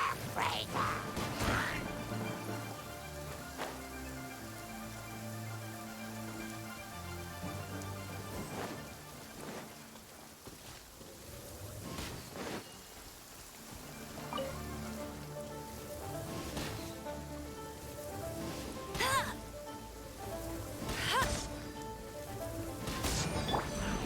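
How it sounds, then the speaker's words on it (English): Rain falling in the video game Genshin Impact, a soft steady patter beneath game music and occasional sharp impact hits, moderately quiet throughout. "Rain does look pretty cool in this area. It's been a while since it rained."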